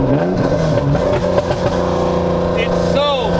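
Loud BMW E36 with an M52 engine swap and no proper exhaust, its engine droning and revving continuously over the whole stretch while a person talks over it.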